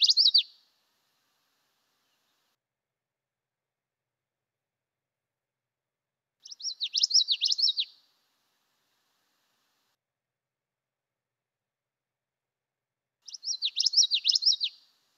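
A common yellowthroat in grassland sings three separate bursts of its rapid, rolling witchety-witchety phrase, each about a second and a half long, clear and alone against silence.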